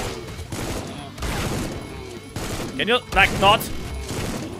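Enemies firing shells in the old-school shooter game Supplice, heard as bursts of gunfire and sharp impact blasts that come and go over several seconds, with a voice talking between and over the shots.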